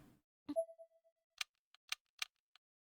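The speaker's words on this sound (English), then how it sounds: "Pressing it only produces clicks." Pressing an unpowered doorbell in the video game Corpse Party: Blood Drive gives a few sharp, dry clicks spaced irregularly in quiet, after a brief knock and a short fading tone.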